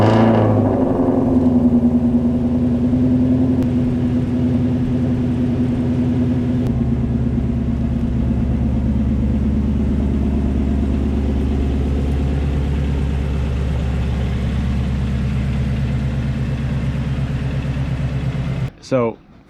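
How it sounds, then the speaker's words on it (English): A Ford Mustang GT350 engine idles and rumbles loudly nearby, its pitch shifting as the car drives out of a garage, ending with a brief clatter. "let's get the car out of the garage and get it up on some jacks."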